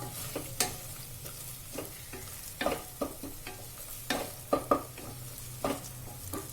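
Onion-tomato masala frying in a pan for a pea and potato curry, a steady sizzle broken by repeated sharp scrapes and clinks of stirring, close and fairly quiet.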